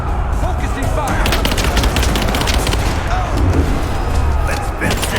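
Dense, continuous gunfire rattles through a combat scene in the video game Rise of the Tomb Raider, loud and chaotic with overlapping bursts and booms and no letup.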